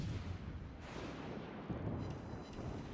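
Main guns of the Stalingrad warship firing in World of Warships Legends, a video game, heard as muffled, rumbling low booms under a steady roar of background noise, faint rather than sharp.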